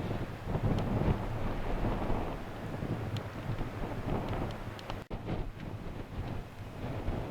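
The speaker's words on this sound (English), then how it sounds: "standing out here in the wind, doing a bit of a wind noise test on the Sony XR500" Strong, continuous wind buffets a Sony XR500 camera microphone fitted with a furry windscreen outdoors under heavy overcast skies, a loud low rumbling roar that persists throughout with a brief dropout near the end.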